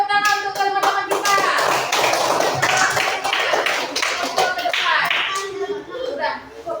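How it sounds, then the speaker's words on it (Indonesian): Children in a classroom coding lesson clapping together, a dense burst of many hands applauding for several seconds, mixed with kids' voices and chatter, tapering toward the end. "tepuk tangan untuk teman-teman kita"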